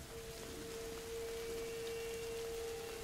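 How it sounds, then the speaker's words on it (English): Steady rain falling in the video game A Plague Tale: Innocence, an even, close hiss of drops with a faint constant tone underneath and no talking. "It's just rain."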